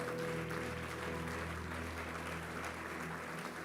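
A church congregation applauding, a steady, distant wash of clapping that holds evenly throughout, with faint musical tones underneath.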